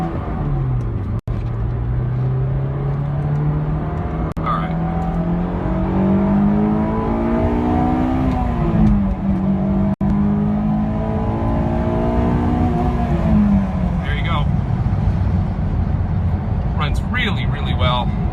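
A 2006 Honda S2000 engine pulls steadily under load, its tone climbing and dropping with gear changes; the loud in-cabin drone is continuous and road noise sits underneath it.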